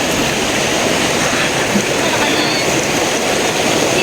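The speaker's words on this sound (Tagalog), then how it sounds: "The river. You are enjoying the river." A river flows steadily during a riverside picnic, with a continuous broadband rushing wash that stays loud and close throughout, with no speech.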